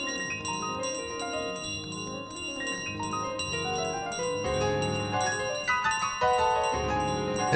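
A bell rings in Untitled Goose Game, repeated bright metallic dings in a steady rhythm layered over light plinking piano music, soft and continuous throughout.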